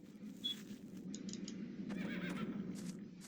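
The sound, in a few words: horse neighing, from a video game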